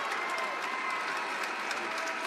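Home crowd at a high school basketball state tournament final, a steady roar of applause and cheering that fills the gym for the whole stretch, with no clear break or lull.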